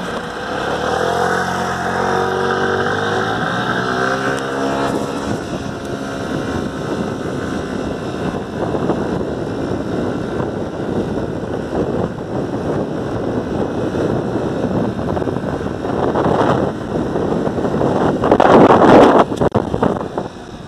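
Magnus Carave V max scooter riding along a straight road, a steady engine drone mixed with heavy wind buffeting on the microphone, loud and continuous with a rising whine near the end.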